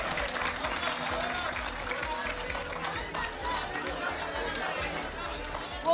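Applause from an audience at a televised Hindi poetry debate show, a steady dense clapping wash mixed with crowd chatter that runs the whole time without a break.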